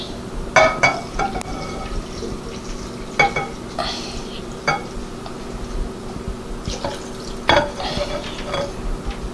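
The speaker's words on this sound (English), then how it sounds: "And you're gonna serve some broth on mine too" Thin, watery broth ladled over food at a table, with soft splashing pours, clinks of a ladle against a bowl and scattered spoon taps, close and moderately loud.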